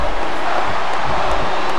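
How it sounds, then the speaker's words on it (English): A wrestling event crowd cheers and roars in a dense, continuous wash of noise, loud and unbroken over a couple of seconds. "The crowd's definitely liking Melina"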